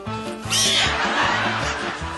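A cat's drawn-out meow rises over a busy, bright background of music or noise, fairly loud and continuous.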